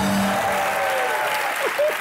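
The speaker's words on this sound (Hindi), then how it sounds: "कंगना और राजकुमार के लिए जोरदार तालियां।" Studio audience applause on the Hindi comedy talk show Comedy Nights with Kapil, a loud, steady clapping wash lasting two seconds, with a faint voice and a few tonal musical notes under it.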